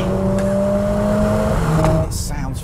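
A Mercedes-AMG A45 S four-cylinder engine holds a high, steady note at top revs inside the cabin, then the pitch drops and a sharp burst cuts in near the end. A voice talks over it.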